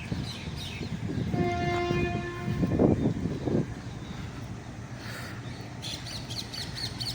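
A train passes near Nizamuddin railway station in Delhi, rumbling steadily with a loud horn blast in the middle and birds chirping toward the end.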